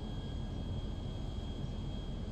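A jet flying over the city of Los Santos in GTA V, a steady, continuous engine roar with a thin high whine running through it, unbroken and with no talk.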